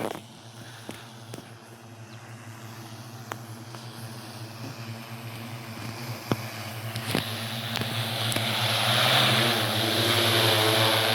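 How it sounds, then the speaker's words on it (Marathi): A buzzing agricultural spraying drone hums steadily nearby, growing louder toward the end, with a few sharp clicks and knocks in the background. "ड्रोन."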